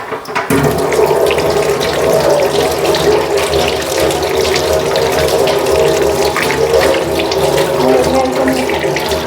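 A water purifier filter held under a strong running tap, a loud, steady gush of water splashing in a sink for the whole stretch, close and continuous.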